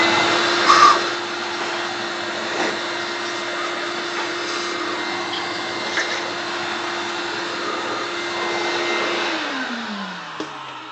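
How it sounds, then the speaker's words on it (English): A steady, loud vacuum motor drones throughout with brief bumps and knocks while sucking debris from the air cleaner box of a RAM 2500 Cummins, then its pitch falls as the machine winds down near the end. "I'm going to vacuum that."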